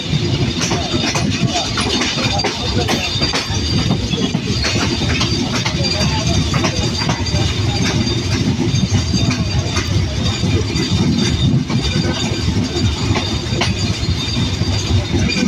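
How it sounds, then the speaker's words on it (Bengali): Chitra Express intercity train pulling away from Ibrahimabad railway station after a brief stop, a steady loud rumble of wheels and carriages with rhythmic rail clatter throughout, heard from on board. "আমাদের আন্তনগর চিত্রা এক্সপ্রেস এখানে 3 মিনিটের মধ্যে একটা স্টপেজ দিয়ে ছেড়ে যাচ্ছে ইব্রাহিমাবাদ রেল স্টেশন"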